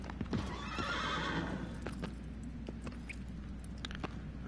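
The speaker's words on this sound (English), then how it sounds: "Aggro, slow down when I pull back! You incompetent horse?" Horse hooves clip-clopping at a gallop with a whinny near the start, from the horse Agro in the PS4 remake of the video game Shadow of the Colossus, steady hoofbeats continuing over faint ambient sound.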